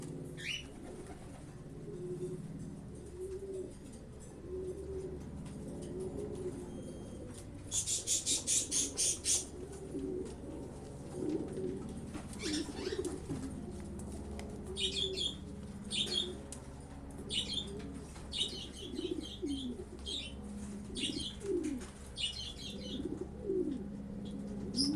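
Racing pigeons arriving at the loft during a race, with steady soft cooing and a burst of wing flapping, joined later by scattered chirps and rustles.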